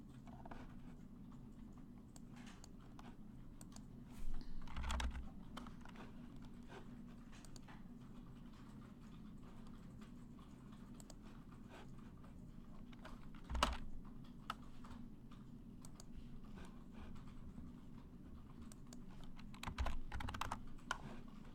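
A slightly rusty computer keyboard with a sticking N key is typed on quietly in sporadic bursts of clicking keystrokes, with a few louder taps standing out against a faint, low background hum.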